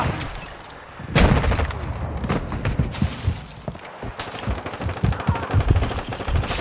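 Bursts of automatic gunfire from the video game Modern Warfare 2, with rapid loud rattling volleys and sharp single shots in the foreground, broken by brief pauses.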